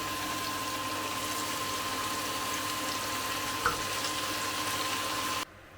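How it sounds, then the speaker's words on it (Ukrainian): Saffron milk cap mushrooms poured into hot oil fry with a steady, close, even sizzle and hiss, with one brief clink partway through before the sizzle cuts off at the end. "Олія шкварчить і ми висипаємо сюди рижики."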